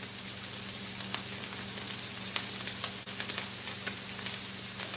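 Sausage browning in a pan gives off a steady, close sizzle of frying fat with scattered small pops and crackles and no talking.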